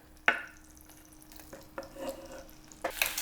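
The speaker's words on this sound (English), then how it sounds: "We're gonna quickly saute our pork and onions." Pork belly hits hot oil in a pot with a sharp initial sizzle, followed by quieter frying and a few clatters before another burst of sizzling at the end.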